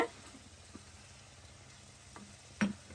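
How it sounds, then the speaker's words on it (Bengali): Katla fish pieces fry quietly in a cooked spice paste for rezala, giving a low steady sizzle with a brief utensil clink near the end. "এখন আমি মাছটা দিয়ে দিব।"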